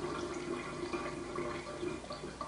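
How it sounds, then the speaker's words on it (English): An AlkaViva/IonWays Vesta GL-988 water ionizer dispensing acidic water as a quiet, steady trickle of running liquid, with no talk. "Here we're going to get a sample of a nice strong acidic water."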